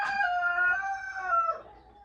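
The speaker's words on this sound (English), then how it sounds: "So hopefully the cockerel is not going to be too much of a nuisance, but those guys have not long been up, so they're wanting to make themselves heard." A cockerel crows once in a garden in the morning, a single drawn-out cock-a-doodle-doo, fairly close and clear, trailing off at the end.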